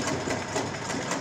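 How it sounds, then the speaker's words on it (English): A sewing machine stitches a shirt collar stand at a half-inch seam, giving a steady, rapid, close mechanical whir with an even rhythm and no talk. "So I'm sewing here by half an inch."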